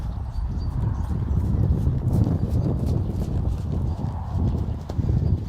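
Hooves of a horse approaching and clearing a jump during a first-time jumping session, a steady rhythmic clip-clop of footfalls over ground noise, fairly close and continuous.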